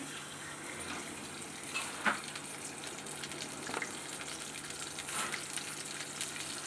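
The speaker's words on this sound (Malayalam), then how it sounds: "മസാലയൊക്കെ പുരട്ടി ഇങ്ങനെ പുരട്ടി വെച്ചിരിക്കുന്ന അയില നമ്മൾ ചട്ടിയിലേക്ക് ഇങ്ങനെ ഇടുവാണ്" Spiced mackerel fish frying in a pan, added while the oil is not yet fully hot, produces a constant close sizzle with a few sharper pops and splutters, heard without any talking.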